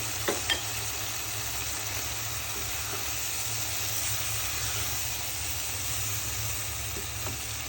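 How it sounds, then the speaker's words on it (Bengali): Chopped jackfruit seeds fry in oily spice masala for a small shrimp bhuna, giving an even, unbroken sizzle with a couple of faint utensil taps near the start. "এখন আমি দু চার মিনিট কষিয়ে নিব"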